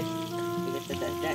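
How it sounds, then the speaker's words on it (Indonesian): Flour-coated eel fries in a pan with a steady, close sizzle over a low background hum. "Goreng sampai habis lah."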